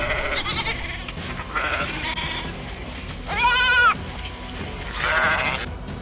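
Several sheep bleat in turn on open grassland in the Falkland Islands, one loud wavering cry standing out near the middle and another toward the end, over a soft outdoor background.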